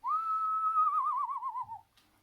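A single whistled owl-like note held steady, then breaking into a quavering wobble before fading, a human imitation of a little owl.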